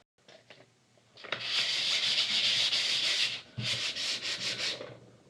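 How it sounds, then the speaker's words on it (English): Steady back-and-forth sanding strokes rasp across a hard gesso surface, close up, with a brief pause before several shorter rubbing passes. "So I'm just finishing up sanding here"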